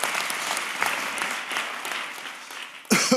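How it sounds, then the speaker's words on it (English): A live audience applauds a woman named Lindsay called up on stage at a corporate event, with dense, steady clapping close by that swells abruptly louder near the end. "Give Lindsay a round of applause."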